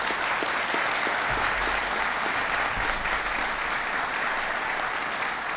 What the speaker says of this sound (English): Give Gene a big round of applause.